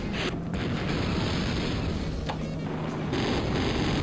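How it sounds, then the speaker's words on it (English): A booming explosion in the vehicular combat video game Interstate 76 rumbles loudly and continuously, a dense low roar with a few sharper bursts over its length and no talking. "as you can see there's the explosion"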